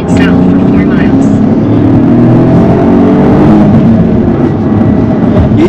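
A 2023 Toyota GR Corolla's turbocharged engine drones loudly from inside the cabin, a sustained strained hum building as the car accelerates, with a voice heard over it.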